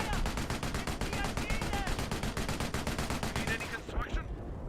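Vickers machine gun emplacement in Company of Heroes firing a long, rapid burst of evenly spaced shots that stops abruptly near the end, with other battle noise behind.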